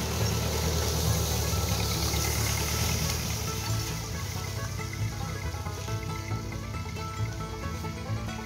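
Tractor engine running steadily while dragging a cattle panel on a chain across a grass field to work seed into the sward, a continuous loud rumble with rattling and scraping throughout.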